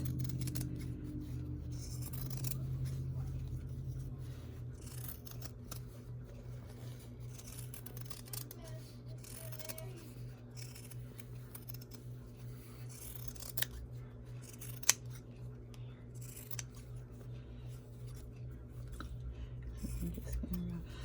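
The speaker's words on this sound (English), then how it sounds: "I'm going to take my bigger scissors, and I'm just going to kind of cut like a 1/4 inch from the seam" Large scissors cut fabric around a cross-stitch pillow seam, trimming and rounding the edges; faint, steady snipping and rubbing runs close but quiet against a low background hum, with no talking.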